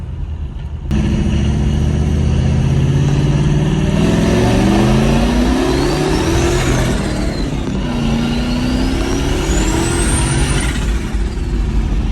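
A turbocharged 5.0 Ford Ranger pulls hard, its loud engine climbing through the revs with rising whine and harmonics while the tires spin, a dip between two strong pulls, continuous and close.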